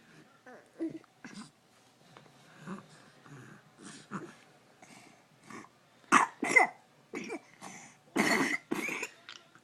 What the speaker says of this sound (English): Oh, that's a cough.